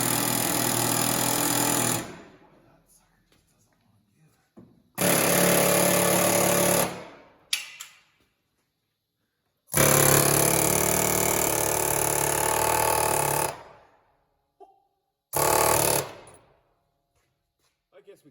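A pneumatic air tool working on a Corvair Rampside during an LS swap runs in four loud, harsh bursts of a few seconds each, separated by near silence, with one brief blip between bursts.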